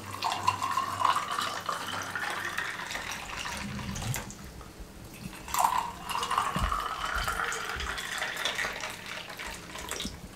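Cold water poured into a jug of falsa sharbat at a Karachi street food stall, a steady splashing, gurgling pour lasting several seconds with a brief pause midway, close and moderately loud with no talking.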